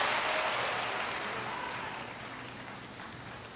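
A church congregation applauding in praise, a broad wash of clapping that starts full and slowly fades over a few seconds, with no talk over it.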